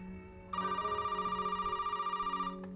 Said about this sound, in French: Allez, petit téléphone.